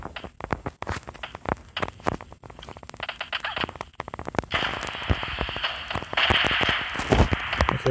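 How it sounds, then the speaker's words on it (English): Explosions and sharp gunfire-like cracks in the video game PUBG go off in irregular bursts, sometimes rapid and clustered, followed by a louder sustained hissing blast in the second half. "I keep hearing explosions."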